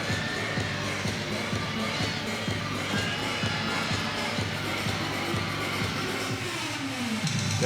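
A college gymnastics meet crowd in an arena cheers and roars continuously, a steady wash of many voices at a distance with no distinct pauses.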